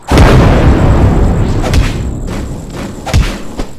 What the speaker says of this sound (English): Explosion spell.